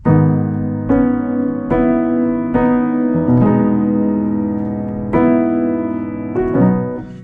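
Piano notes are struck one after another in quick upward rolls, each chord ringing and overlapping before the next series begins.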